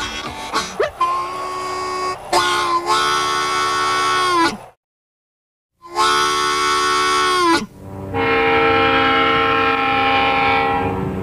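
Loud, sustained train horn blasts, several long tones separated by a short silence, with a final chord-like horn sounding close.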